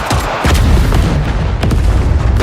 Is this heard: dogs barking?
no